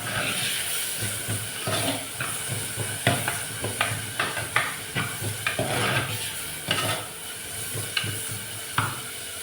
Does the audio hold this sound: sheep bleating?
no